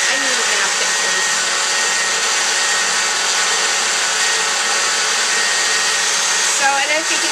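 A blender runs steadily the whole time, churning a large amount of cream into butter with a loud, even motor whine and no pauses.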